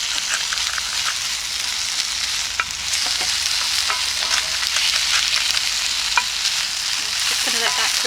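Risotto with red and yellow pepper sizzles steadily in a pot over a campfire, with scraping stirs and small clicks of the spoon breaking through the constant frying hiss; no talking.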